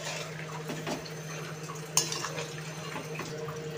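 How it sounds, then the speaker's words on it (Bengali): Metal clatter of a lid settling onto a cooking pot of Bengali fish curry, a few soft clinks with one sharper knock near the middle, close and fairly quiet over a low steady hum. "চলো এটাকে ঢাকা দিয়ে দিই"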